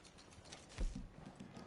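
Horse hooves clip-clopping in Red Dead Redemption 2 Online as a rider travels on horseback, a few soft rhythmic hoof steps under game ambience.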